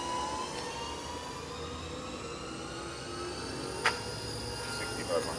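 Steady high whine of a 2010 Hurco VM-20 CNC machining center spindle running at 3,500 RPM, a smooth continuous drone with a couple of brief clicks.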